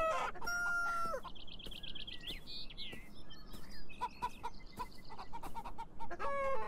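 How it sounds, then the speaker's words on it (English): Chickens cluck and a rooster crows amid chirpy electronic tones and effects in the game Beyond Eyes, a busy layered mix of fowl calls with game-like sounds. "Be free, chickens, be free!"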